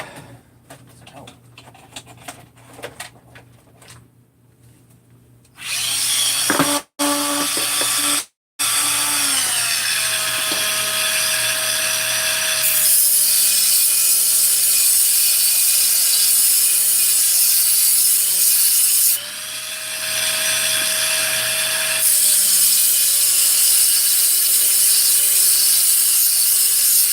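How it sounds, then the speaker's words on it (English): Power grinder cutting a slot for a flat plate, a loud continuous steady whine that starts after quieter shuffling, briefly cuts out twice, then runs on with small pitch shifts. "I just needed to grind a slot for a flat plate."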